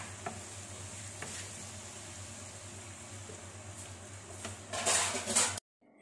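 Mustard seeds and fenugreek sizzle steadily in hot oil for a garlic pickle, a continuous close frying hiss with a louder burst of crackling near the end before it cuts off.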